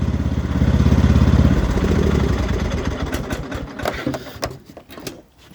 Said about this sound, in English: I turn the key that way, and it shuts the engine off on the tractor